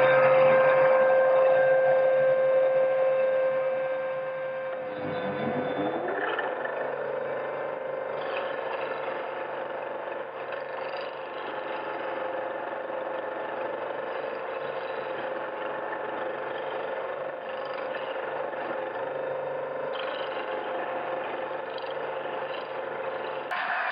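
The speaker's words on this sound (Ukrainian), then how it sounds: "Запущу пилосос." A vacuum cleaner connected by hose to a homemade disc sander runs with a steady high motor whine, its pitch dropping and settling after a few seconds, then droning on evenly.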